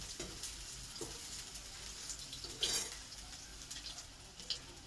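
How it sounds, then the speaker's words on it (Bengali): Soybean fritters shallow-frying in hot oil, a soft steady sizzle with a few brief clinks and stirring sounds, close and fairly quiet, no talking. "এক এক করে আমি একটু লাল লাল করে ভাজবো।"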